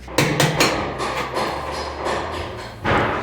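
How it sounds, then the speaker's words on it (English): Several heavy, hollow thuds from hammering strike at uneven intervals, close by, with the loudest blow arriving near the end after a short pause. "Everybody's hammering."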